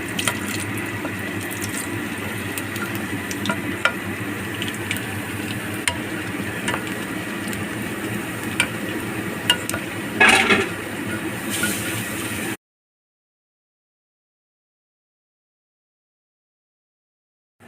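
Tirupati Tirumala-style pepper vadas frying in hot oil and being flipped: a steady close sizzle with occasional scraping and splashing clicks, running for about twelve seconds before cutting abruptly to silence.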